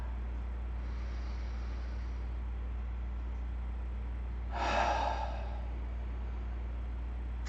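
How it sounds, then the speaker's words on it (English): One loud open-mouth exhale during yoga breathing, a single breathy whoosh lasting under a second over a constant low background hum. "make huge, loud, open mouth exhales"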